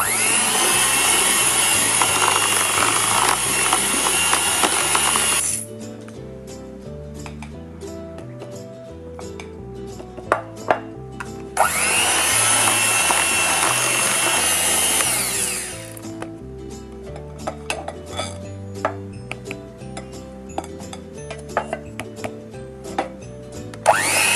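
An electric mixer whirs loudly through lemon bundt cake batter with sour cream in two long bursts, with quieter clinks and taps of the bowl between them.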